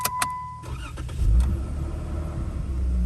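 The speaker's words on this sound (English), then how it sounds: "I'm gonna give her a crank." A car engine cranking and catching at night, with clicks at the start, then a brief churn that settles into a low, steady idle rumble up close.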